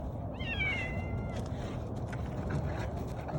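A cat gives a single drawn-out meow, close and clear, while it takes shelter from playing Irish wolfhounds, over steady low background rumble.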